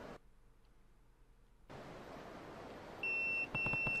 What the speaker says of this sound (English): My pager's beeping.